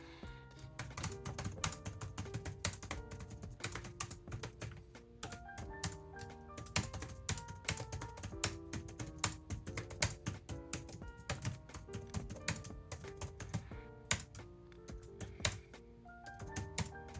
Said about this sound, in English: I got a page that I'm going to type like a paragraph of